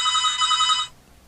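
A telephone rings once in a close, bright electronic trill that holds for under a second and then cuts off abruptly, followed by quiet room tone.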